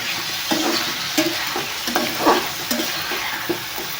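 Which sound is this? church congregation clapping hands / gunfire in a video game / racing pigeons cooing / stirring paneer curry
stirring paneer curry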